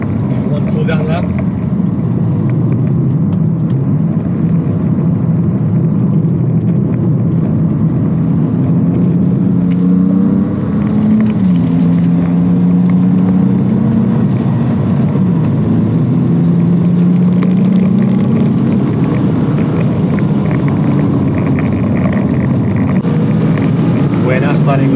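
A BMW F80 M3 rolls through a cool-down lap on a race track, its low engine hum steady and moderately loud with wind rush, while a person talks over it.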